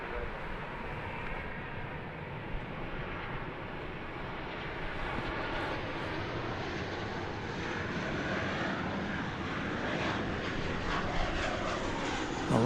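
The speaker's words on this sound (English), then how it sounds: "Arriving now from Colorado Springs is this 737-800." A Boeing 737-800 arriving at Dallas Fort Worth from Colorado Springs gives a steady, moderate jet roar that swells gently over several seconds, fairly distant and continuous, with faint background chatter.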